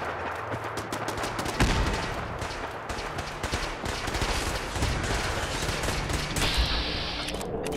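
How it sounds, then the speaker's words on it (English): Dense gunfire in Fallout 4 while defending Sanctuary from a Synth attack: overlapping rifle shots and rapid bursts crackle continuously, one heavier blast standing out, loud and steady throughout with no talking. "What's with all the shooting?"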